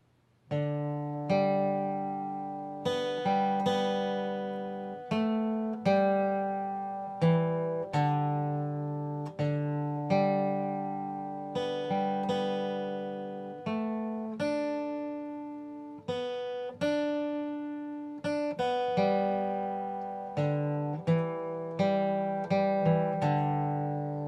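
Guitar picks out a simple, slow melody one note at a time, each plucked note ringing clearly before fading, with no voices.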